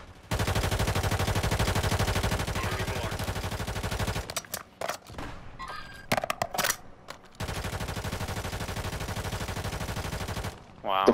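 Sustained automatic gunfire in the Warzone battle royale, long continuous bursts near and loud with a short break of scattered single shots, under occasional voice chatter.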